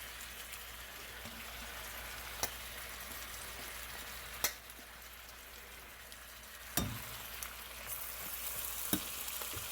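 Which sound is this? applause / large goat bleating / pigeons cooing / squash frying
squash frying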